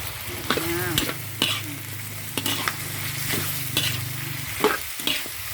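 Homemade curry paste for chicken and pumpkin curry stir-fried in a pan: a constant sizzle with repeated scraping strokes of a utensil, close up, over a low hum.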